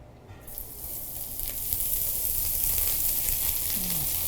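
Food sizzles steadily in a lightly smoking hot pan, a broad frying hiss that swells in after a quiet start and holds close and even, with no talking.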